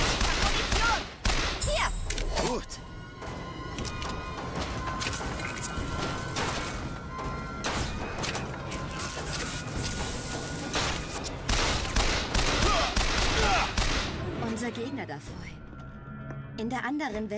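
Gunfire in the video game BioShock Infinite crackles in rapid dense volleys and crashes throughout, mixed with game sounds under continuous talk.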